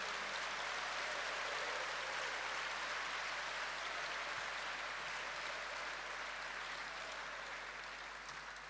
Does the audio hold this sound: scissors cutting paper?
no